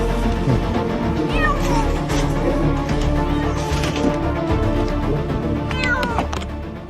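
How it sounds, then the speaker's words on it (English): A frightened cat trapped in a broken building meows repeatedly, several loud, close cries with rising and falling pitch over a busy background of clatter and faint voices. "Rescuers also found a cat in a broken building."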